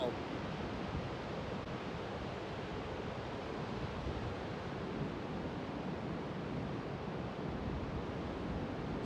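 Ocean surf rolls along the British Columbia coast near Tofino on a cold afternoon, a steady, loud wash of broadband roar with wind buffeting the microphone and no distinct breaks.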